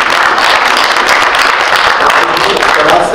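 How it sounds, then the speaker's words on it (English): Dense, steady applause from a crowd, loud and continuous throughout, with some voices mixed into the clapping. "stand up and applaud"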